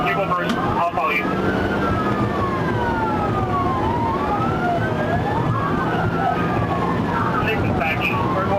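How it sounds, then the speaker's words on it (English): Police trooper car siren wailing steadily during a highway pursuit, rising and falling sweeps held loud and close over constant road and engine rumble. "The trooper immediately activated emergency lights and sirens"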